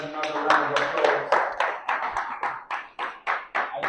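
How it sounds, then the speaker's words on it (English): Audience at a book signing event in Dallas clapping, a steady run of hand claps that starts as full applause and thins into separate, sharper claps. "Ladies and gentlemen, another round of applause."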